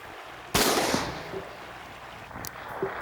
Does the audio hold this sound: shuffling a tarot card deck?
no